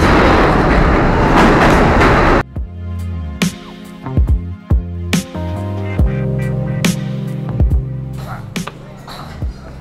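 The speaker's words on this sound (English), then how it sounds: "And look, this is our train!" A New York City train rumbles past with broadband noise for a couple of seconds, then gives way to irregular clanks, knocks and thumps of moving rail cars.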